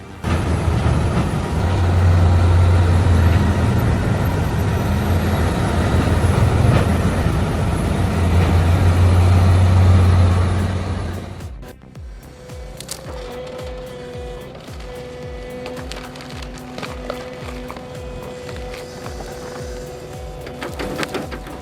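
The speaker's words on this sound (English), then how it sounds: "With its 9700 series rotor spinning at insane RPMs, in seconds, they're torn apart and blasted into neat piles of dark, rich chips" An industrial wood grinder with a 9700 series rotor shreds tree waste into chips, a loud continuous roaring grind for about eleven seconds that then drops to a lower engine rumble with scattered knocks.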